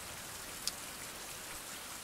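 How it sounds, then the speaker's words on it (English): Steady rain falls in the survival game Survival: Fountain of Youth, a constant even hiss of drops across the whole stretch with one brief brighter tick near the start, no voices over it. "of course it's raining now because I'm doing the video"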